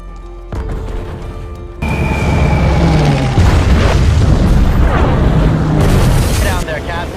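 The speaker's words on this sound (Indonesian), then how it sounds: "Kemudian mereka mulai menghujani distrik Tokyo dengan bom." Heavy bombs explode over Tokyo in a war film scene, with a deep booming blast building into a sustained roar of rumbling detonations and debris, preceded by a quieter lead-in with engine drone.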